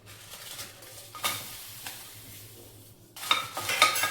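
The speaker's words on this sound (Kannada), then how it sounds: "ನೆಕ್ಸ್ಟ್ ಇದಕ್ಕೆ ಬ್ಯಾಡಗೆ ಮೆಣಸಿನ್ಕಾಯಿ ಹಾಕೊಂಡ್ಬಿಡೋಣ." Byadgi dried red chillies fry in a pan for a coconut chutney powder, giving a steady close sizzle broken by scraping stirs and utensil clinks, growing louder and busier toward the end.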